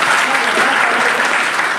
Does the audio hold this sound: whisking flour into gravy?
no